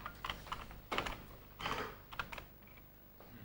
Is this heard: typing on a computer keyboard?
yes